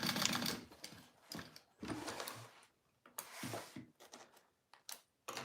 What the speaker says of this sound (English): I am going to do one more row of stitching on the sides of my bag here